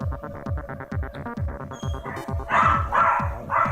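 A dog barking repeatedly in rapid, rhythmic bursts, fairly close, with a bird's shrill calls joining in toward the end.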